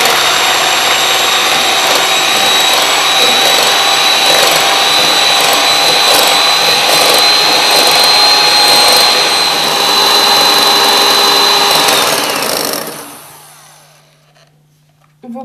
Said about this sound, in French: Commencez par monter les blancs d'œufs en neige